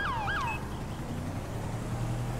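A police car siren in GTA 5 gives a short wailing sweep, up and down in a few quick cycles, then stops. A steady engine or road rumble continues beneath it, with no talk.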